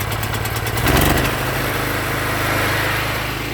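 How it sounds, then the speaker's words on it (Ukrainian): A portable generator engine runs steadily just after being started, a loud close rumbling drone with a brief surge near the start before settling into an even idle. "Після чого генератор працює, але не видає струму."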